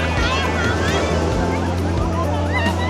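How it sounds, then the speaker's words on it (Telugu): On a crowded beach at Mahabalipuram, surf washes steadily beneath a dense babble of many visitors' voices. Wind buffets the microphone, and nearby people talk throughout. "సో సందడిగా ఉన్నటువంటి బీచ్ ఇది"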